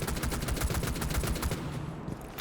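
Rapid DMR gunfire in the game Rainbow Six Siege, a quick string of about a dozen evenly spaced loud shots over a second and a half, then the shots stop and a quieter tail trails off.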